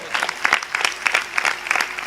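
Audience at a comedy show clapping in a short burst of uneven, close claps with distinct sharp hits, lively and moderately loud throughout.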